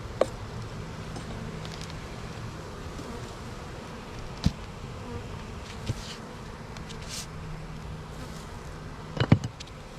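Honey bees buzzing at a fairly quiet hive, a continuous soft drone with occasional faint clicks and rustles close by.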